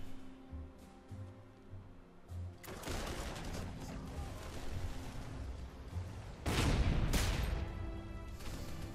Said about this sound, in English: A lot of artillery they have there.